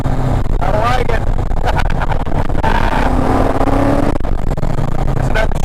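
A 1986 Mustang accelerating hard, its loud engine revving and rising in pitch as it pulls, heard from inside the car while people talk over it.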